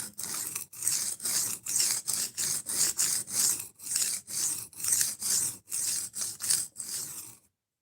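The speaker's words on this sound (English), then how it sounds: "I'm just sharpening." A knife blade is sharpened on a 120 grit abrasive in long, even rasping strokes, about fifteen of them in a steady rhythm, close and loud with brief gaps between passes, then stopping.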